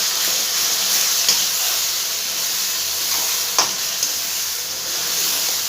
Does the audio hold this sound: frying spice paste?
yes